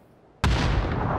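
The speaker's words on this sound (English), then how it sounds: "Let's throw a grenade, see what happens." Grenade explosion in the PUBG video game, a single sudden loud blast that hits abruptly and then rumbles on as a sustained heavy roar.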